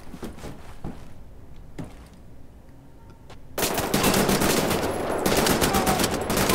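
Gunfire in the shooter Wolfenstein: The New Order: a few scattered shots and clanks over quiet ambience, then a loud, sustained burst of automatic fire for the last few seconds.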